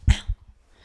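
A dog gives a short, close huff or soft bark, followed by a fainter second puff of breath, then quiet.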